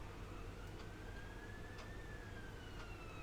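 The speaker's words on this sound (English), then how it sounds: "An ambulance outside" Ambulance siren passing outside, a faint wailing tone rising and falling steadily far in the background under broad noise.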